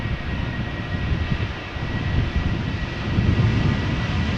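Airliners, a mix of wide-body heavies and narrow-bodies, depart Amsterdam Schiphol Airport in crosswind, a steady broad distant engine roar that slowly swells louder, with no talking.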